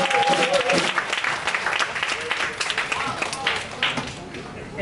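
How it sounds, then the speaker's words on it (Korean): A jazz club audience claps and cheers steadily at a live band show, a dense wash of applause that carries on for several seconds, with voices mixed in. "큰 박수 부탁드립니다."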